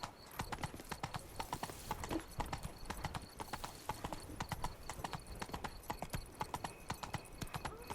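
Hooves of Roach, the horse in The Witcher 3, clip-clopping in a steady walking rhythm, close and clear over quiet ambient game sound.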